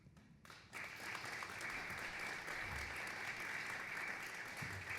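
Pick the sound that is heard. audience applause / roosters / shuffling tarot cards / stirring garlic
audience applause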